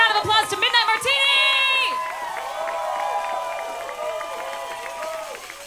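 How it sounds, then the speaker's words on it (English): Audience at a burlesque festival cheers and whoops loudly, with high shouts and yells over crowd noise and some scattered clapping as the cheering gradually settles. "So a big round of applause to Midnight Martini!"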